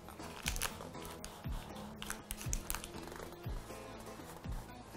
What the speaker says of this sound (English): I will cut through all the layers